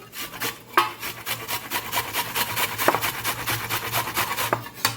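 Onion rubbed against a hand grater in quick, rhythmic scraping strokes, close and moderately loud, with a few sharper knocks mixed in while preparing a traditional Gujarati aviyu-style sabji.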